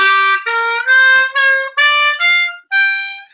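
A harmonica climbs through a blues scale in seven separate held notes, each cleanly breathed with small gaps, close and bright.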